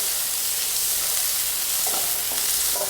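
Chopped nithya vazhuthana (ivy gourd) and onion fry in hot oil while being stirred, a loud steady sizzle with a few scraping spoon strokes late on.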